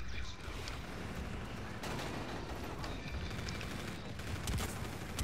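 Gunfire from a disintegrating pistol in the Infinite Warfare video game, heard as a dense battle mix of repeated sharp shots and rapid bursts at moderate loudness, with several distinct cracks standing out over continuous combat noise.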